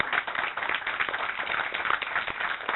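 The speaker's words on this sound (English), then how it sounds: "I'd like to give a round of applause." At a Southfield public school district board meeting, the audience gives a steady round of applause, moderately loud and sustained throughout.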